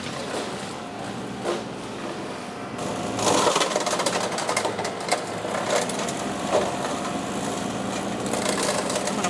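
A John Deere 2038R compact tractor runs a Hardee Brush Tiger rotary cutter through brush, giving a steady close engine drone and mower whir that surges louder after the first few seconds, with crunching bursts as material is cut.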